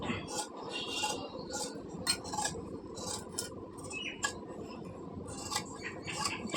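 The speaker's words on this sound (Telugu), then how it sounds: "ఇప్పుడు కట్ చేసి చూపిస్తాను." Scissors snip through blouse fabric in quick, irregular clicks and crisp cuts, close by, with brief pauses between bursts.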